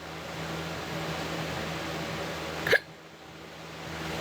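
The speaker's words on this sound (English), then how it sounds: "Hiccup, sorry." One sharp, brief hiccup from a person indoors, sudden and close, set against a steady low hum of background room noise.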